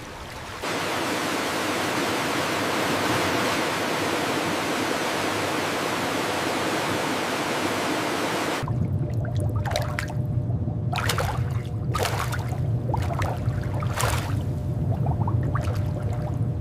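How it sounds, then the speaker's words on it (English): Tomatoes pour through a large water-filled flume in a tomato processing factory. A loud, steady roar of rushing water shifts partway through to a lower churning wash with scattered splashes, and no voices. "A thunderous avalanche of produce floods the vast, water-filled flume, beginning the purification process."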